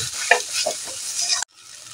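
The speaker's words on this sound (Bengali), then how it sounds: "আলুটা দিয়ে এর ওপরে ভালো করে আমি নাড়াচাড়া করে নেব" Potatoes being stirred with beetroot, carrot and spices in a pan, a close scraping and sizzling that runs steadily for about a second and a half, then cuts to a quieter fainter sizzle.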